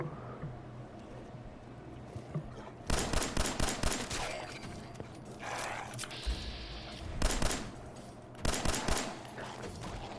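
Gunfire in the shooter game Fallout 4 in Survival Mode, with rapid loud automatic bursts and fusillades coming in several clusters, separated by quieter stretches.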